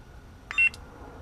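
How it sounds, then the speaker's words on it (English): A single short, clear electronic beep from a lightsaber sound board sounds once, close and brief, against a faint quiet background. "if you press this button and you release it after the first beep"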